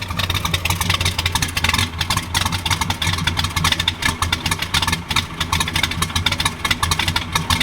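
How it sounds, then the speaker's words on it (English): A 1966 Pontiac GTO with a Tri-Power V8 idles close by, its dual exhaust giving a steady, loping, throaty rumble, rising slightly in spots, with no talking over it. "let's walk around to the back and hear the sound coming out of that dual exhaust"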